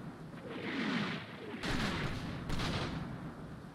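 Bursts of machine gun fire in the Combat Mission wargame, three dense rattling volleys in quick succession at moderate distance, with no talk over them.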